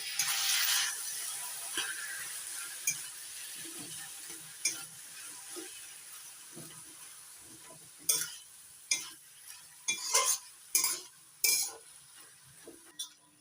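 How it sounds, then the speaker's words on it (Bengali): Taro leaves cooking with a hilsa fish head in a pan are stirred after the lid comes off. A gentle sizzle sits under intermittent spatula scrapes and clinks, which grow louder and more rhythmic toward the end. "এবার ঢাকনা তুলে নিচ্ছি, নাড়াচাড়া করে দিচ্ছি"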